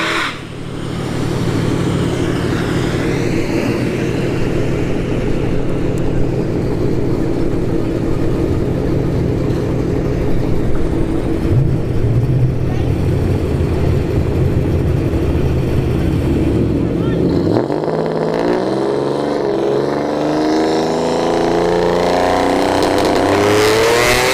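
Drag racing cars at ShowTime Dragstrip during a test-and-tune session drone with a sustained loud engine roar that holds steady for a long stretch, then rises into a revving surge in the last few seconds.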